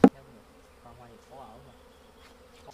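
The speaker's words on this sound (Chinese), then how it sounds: "现在那里有采集蜂在飞。" Wild honeybee foragers buzz faintly around a hive at the foot of a mountain, a soft, distant hum following a sharp knock at the start.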